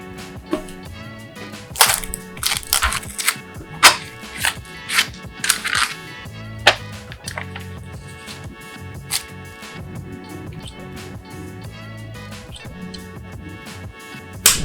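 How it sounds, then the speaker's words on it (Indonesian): Handling of a boxed TWS Bluetooth earbuds set, an Olike EJ1 with Bluetooth 5.3, during unboxing: scattered sharp clicks, taps and plastic cracks of packaging and the case, clustered near the start and sparser later, over a quiet background. "langsung aja kita unboxing"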